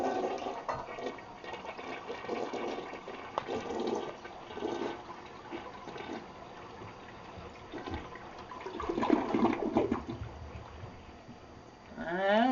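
A household toilet flushes during a repair test with paper, a loud rushing swirl of water that surges and drains for several seconds, ending with a gurgling refill.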